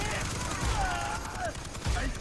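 Gunfire in the co-op shooter Far Cry 3, a steady wash of shots and bursts running under and between excited voices talking over the action.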